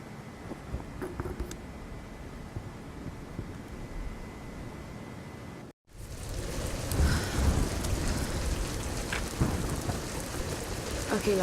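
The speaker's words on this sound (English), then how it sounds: "We're getting closer to the storm." A stormy downpour in the Tomb Raider game: rain patters steadily with low thunder rumbling, then a brief dropout before heavier, louder rain and gusts resume.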